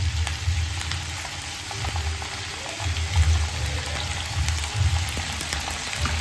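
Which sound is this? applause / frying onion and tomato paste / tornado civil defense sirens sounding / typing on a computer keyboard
frying onion and tomato paste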